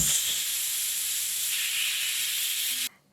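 Steam hisses steadily and loudly from a pressure cooker whistle while moth beans cook, a continuous close rush of about three seconds that cuts off abruptly into quiet.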